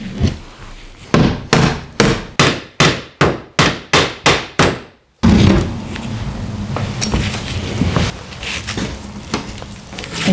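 About a dozen evenly spaced, loud hammer blows ring out against metal in a basement. After a brief silence comes a sustained rough scraping and tearing as nails are ripped free.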